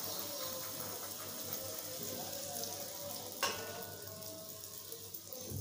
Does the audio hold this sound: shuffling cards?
no